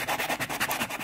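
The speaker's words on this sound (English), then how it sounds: "I'm going to sand this down. Got some sandpaper here." Sandpaper rubs over the bearing edge of a snare drum in quick, even back-and-forth strokes, close and fairly loud.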